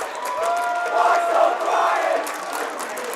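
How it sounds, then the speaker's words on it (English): A boys basketball game's away crowd on its feet cheering, a sustained loud roar of voices with whoops and shouts swelling and easing in an indoor gym. "the away crowd on their feet as they are just amped by how well their team is playing right now"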